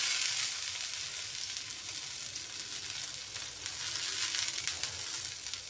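Soaked peanuts sautéing in a hot pan give a dense, bright crackling sizzle that runs continuously and close, with faint stirring movement and no voices.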